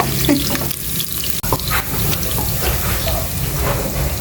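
Garlic sautéing in hot cooking oil, a loud continuous sizzle and crackle with occasional stirring scrapes, close and steady throughout.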